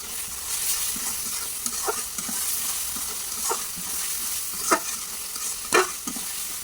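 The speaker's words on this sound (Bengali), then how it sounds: "রসুনের সঙ্গে এই মাছটাও ভেজে নেব।" Garlic, onion and small shrimp frying in a pan for a taro-leaf dish, a continuous sizzle broken by repeated scraping stirs that grow louder toward the end, with no talk.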